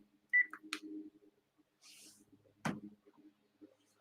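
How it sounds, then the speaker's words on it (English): A phone gives a short electronic beep and a brief tone, then goes quiet. Soft faint room noises follow, including a dull knock. "turn that phone off."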